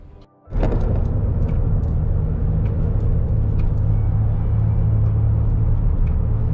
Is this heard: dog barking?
no